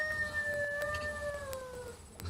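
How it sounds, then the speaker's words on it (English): A possible coyote gives a faint, distant howl in a woodland field recording, a drawn-out wavering tone that slowly falls in pitch over a soft background hiss. "okay, so maybe a coyote."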